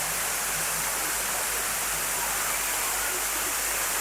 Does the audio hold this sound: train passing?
no